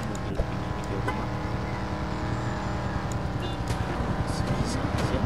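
A modified, lowered car in the video game Dude Theft Wars driving along, a steady loud engine drone throughout with light tire and road noise, no speech.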